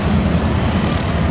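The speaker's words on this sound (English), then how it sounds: "these planes right here that are going by were in World War II" World War II planes pass at an airshow at McConnell AFB as a loud, broad engine roar with rumbling low-end wind buffeting, steady across the brief moment.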